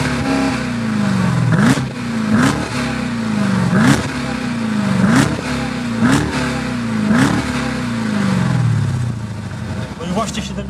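A 717-horsepower SUV engine revs repeatedly through a quad exhaust, rising and falling in a steady cycle of throaty pulls, loud and close, with talking over it.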